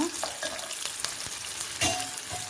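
Chopped onion and chili sizzle and fry steadily in a hot pan, close and loud, while a spoon stirs and scrapes through them at intervals.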